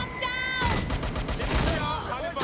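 Bursts of gunfire aimed at the player in Watch Dogs: Legion crackle as a rapid volley, loud and close, with tonal game sounds and a voice heard before the shots.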